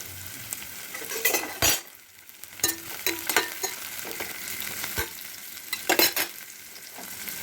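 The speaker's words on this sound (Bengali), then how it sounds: "পেঁয়াজ লাল হচ্ছে।" Chopped onions browning in a pan for mutton kosha give a steady sizzle. A spatula scrapes and clatters in irregular bursts as they are stirred, close and fairly loud, with no voices.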